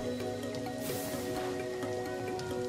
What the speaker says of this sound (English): Is it already raining when we're trying to go here?